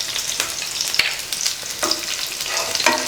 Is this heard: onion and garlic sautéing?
yes